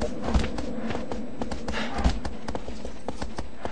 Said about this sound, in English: if you want to kick your horse constantly, it still moves at a fast pace